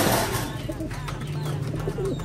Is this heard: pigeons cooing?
yes